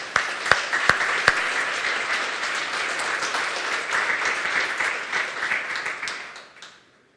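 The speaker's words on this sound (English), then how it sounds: "a quick applause" An audience at a Drupal conference talk applauds. A few sharp, separate claps open it, then steady clapping fills the room and fades out toward the end.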